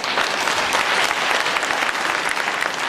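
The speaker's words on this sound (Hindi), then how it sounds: "उनके लिए तालियां बजाओ।" Dense, continuous clapping from an audience at a devotional satsang gathering in a temple, loud and even throughout with no gaps.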